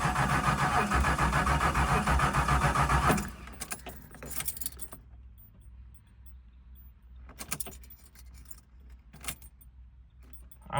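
Keys jangle loudly and close for about three seconds as a Ford Fox Body car is keyed to crank the engine, followed by faint intermittent clicks and rattles with no clear engine catching.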